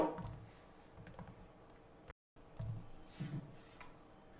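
A promo code is tapped out on a computer keyboard in a quiet room, a few soft, close keystrokes in small bursts with a brief pause between them.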